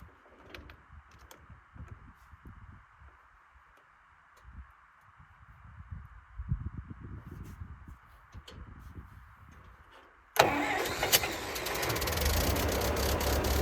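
An old Massey tractor's gas engine is cranked and catches, quiet clicks and rustling giving way to a sudden loud, steady running rumble near the end, all outdoors in snow.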